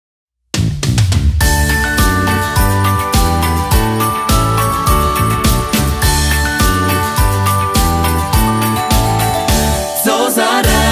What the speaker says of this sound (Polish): Posłuchajcie świątecznej piosenki, którą dla was przygotowałem.